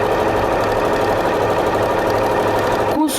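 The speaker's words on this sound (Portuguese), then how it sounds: "Costuro de um lado a outro do quadrado." Sewing machine running steadily while stitching across a patchwork square with dark thread, a continuous close mechanical whir that stops abruptly near the end.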